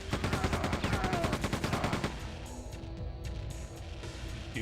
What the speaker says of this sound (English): I can hear you shooting those freaking grenades